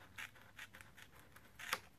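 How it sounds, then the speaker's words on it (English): Small manicure scissors snipping washi tape, a few quick, crisp cuts close up and alone, in an irregular rhythm. "I will just take my little manicure scissors and cut the edge"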